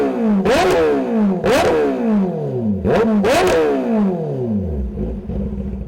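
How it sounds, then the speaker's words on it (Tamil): A Kawasaki Z motorcycle revved hard at a biker spot near Chennai, with four loud close exhaust blips that climb then fall away, ending in a rough idle burble. "அண்ட் அவரோட பைக் இது இசட். ஓகே, அவரோட எக்ஸாஸ்ட் நோட் காமிச்சிட்ருக்காரு."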